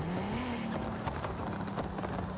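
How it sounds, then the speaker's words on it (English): Datsun 240Z in Forza Horizon 5, drag-tuned and said to resemble a 2JZ engine, idling with a steady low engine drone and a slight rise in pitch early on, continuous and fairly loud. "Kind of sounds like a 2JZ engine."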